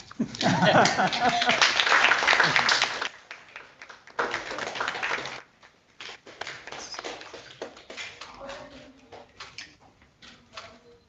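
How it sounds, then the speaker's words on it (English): Audience at a water innovation challenge launch clapping, a dense burst of applause that stops, returns briefly, then gives way to scattered taps and people talking. "And feel free to clap, it's okay."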